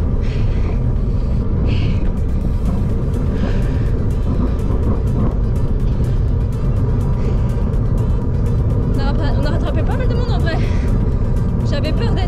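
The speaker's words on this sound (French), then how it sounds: "Ça il y a des voitures, c'est chiant." Cars passing on the road during the bike leg of a triathlon, a constant loud rumble of traffic and wind noise, with a person talking over it.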